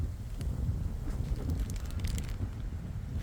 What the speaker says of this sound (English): it just got super windy